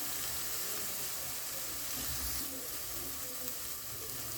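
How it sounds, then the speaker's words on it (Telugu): Garlic paste frying in a pan for an Andhra-style egg and potato curry, giving a steady, close, continuous sizzle with faint stirring and no talk. "వెల్లుల్లి పేస్ట్ వేసాక బాగా మిక్స్ చేసుకుని పచ్చివాసన పోయేదాకా వేయించుకోవాలి"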